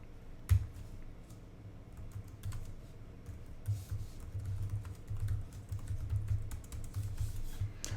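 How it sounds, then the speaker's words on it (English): Fingers tap out code on a computer keyboard in short irregular bursts of close, crisp key clicks, with one louder keystroke near the start and no talking. "Now if I go back over to the implementation, I can type get age."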